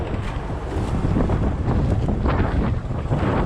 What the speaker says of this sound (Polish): I wiatr się zrobił.